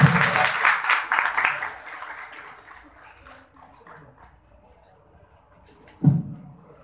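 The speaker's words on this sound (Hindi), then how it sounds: "आप तालियों के साथ स्वागत करें प्रभु के दास" An audience at a pastors' prayer fellowship anniversary celebration in India claps to welcome a pastor, the applause loud and dense at first and then thinning out, with a faint voice and a single thump near the end.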